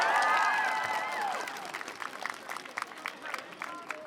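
Crowd at a pride rally in Groningen applauding and cheering, a loud burst of voices and clapping that settles into steady scattered claps close by.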